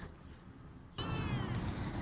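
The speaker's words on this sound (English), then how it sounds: "And this is Miss Kitty, the garden cat" A cat in a garden meows once loudly and close by, a drawn-out call rising out of quiet outdoor ambience.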